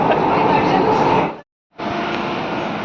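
A metro train rumbles at a Delhi station, a dense steady roar broken by a brief drop to silence before resuming at the same loud level.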